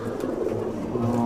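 A Madrasi pigeon gives a soft, low coo, close by and continuous for a brief moment.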